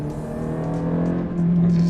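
A Ferrari F430 with a gated manual gearbox revs and pulls harder, its tone climbing and growing louder toward the end, heard up close with faint background noise.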